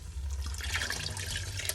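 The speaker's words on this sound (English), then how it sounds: "And then to that, we are going to add 2 cups of water." Two cups of water pour into a pot of Sunday gravy, a steady close splashing and gurgling stream that runs throughout without pause, with no talk.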